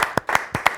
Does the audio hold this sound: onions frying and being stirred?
no